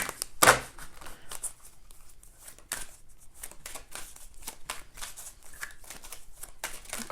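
Oracle card deck being shuffled and a card pulled, with a sharp riffle at the start followed by soft rapid card flicks and rustling, close and quiet.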